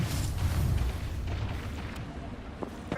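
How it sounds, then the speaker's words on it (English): A thermite grenade going off in a shooter video game, a loud, heavy boom at the start that rolls into a long rumbling burn with scattered pops, close and dominant. "Thermite grenade out."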